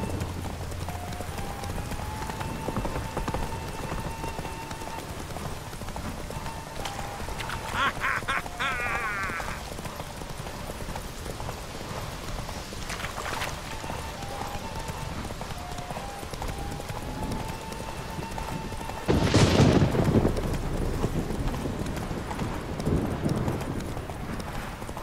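Horses gallop in a race in The Witcher 3 video game, a steady drumming of hoofbeats running throughout, with tonal game sounds layered over them and a louder rushing burst near the end.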